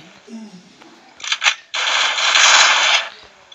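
Short bursts of automatic gunfire from the Free Fire video game, two quick clusters followed by a longer sustained burst, loud and close.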